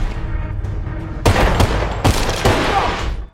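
Rapid bursts of machine gun fire in an action film shootout at a billiard hall, arriving in several loud, sharp volleys over a dense background.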